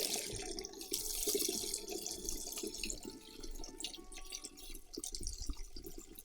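Chardonnay grape mead being poured slowly and carefully into a bucket, a continuous near splashing trickle of liquid with gurgles and small drips running throughout.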